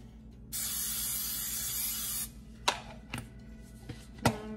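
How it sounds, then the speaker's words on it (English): Cooking spray hisses onto a pan in one long continuous burst, close and loud, followed by a few sharp clanks and bumps of the pan being handled. "I'm gonna spray our pan."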